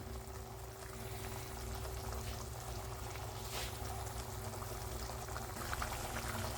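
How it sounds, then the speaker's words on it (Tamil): A pot of okra tamarind curry (vendakkai kara kuzhambu) bubbling at a gentle boil, soft continuous simmering with a low steady hum underneath, no talking. "நல்லா கொதிச்சு வருதுங்க."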